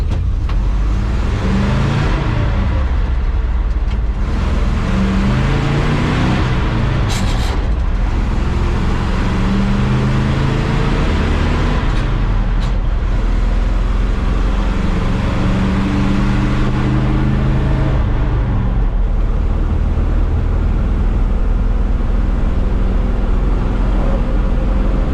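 An old 1965 farm truck accelerates hard in a drag race, its mid-pitched engine loud and close as it revs through gear changes with rising and falling pulls over about twenty-five seconds.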